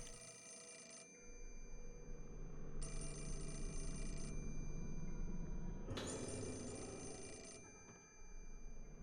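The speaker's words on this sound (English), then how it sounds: "Hold your horses. I'll answer the phone." Telephone bell ringing in Fatal Frame 4: Mask of the Lunar Eclipse, a horror video game: three long electronic rings with pauses between them, loud and close over a steady low ambient drone, with no talking.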